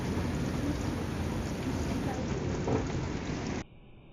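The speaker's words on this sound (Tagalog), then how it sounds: "Narinig nyo ba yung ulan?" Rain falls heavily as a dense, continuous hiss, with thunder rumbling low beneath it, then cuts off abruptly near the end.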